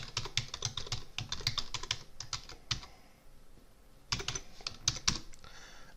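Someone types an SSH password on a computer keyboard: two bursts of quick, close key clicks separated by a short pause, with no talk.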